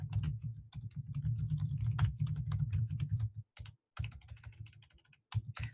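Close, crisp typing on a computer keyboard comes in rapid runs of clicks with short pauses and breaks between bursts, with no talking over it.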